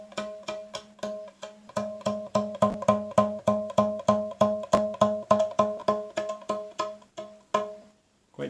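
A string pulled tight by a heavy 1,360 gram magnet is plucked repeatedly in a quick, steady rhythm, producing around twenty loud, bright twangs with a clear ringing pitch.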